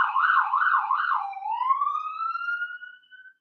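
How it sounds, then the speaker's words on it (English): A police siren in a downtown street wails, rising and falling several times, then shifts into a long rising tone that trails off, clear and fairly close. "I don't even hear the sirens anymore"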